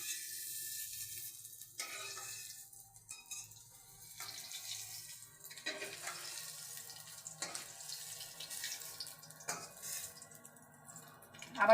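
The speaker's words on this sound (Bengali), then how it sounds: "যেহেতু এটা কাশ্মীরি পনির হবে, তার জন্য এটা অল্প ভাজলেই চলবে।" Kashmiri paneer frying lightly in a pan, a soft, continuous sizzle with faint stirring and scraping, quiet and steady throughout with no talking.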